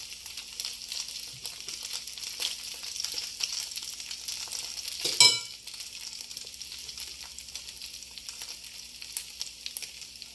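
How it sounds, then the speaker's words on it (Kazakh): Egg-coated potato bread frying in oil in a home kitchen, with a soft, steady close sizzle, light crackle and scattered pops, and a brief louder scraping burst midway as a piece is turned. "Екі жағын әбден қызартып қуырып шығасыздар."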